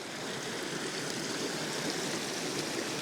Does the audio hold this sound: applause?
no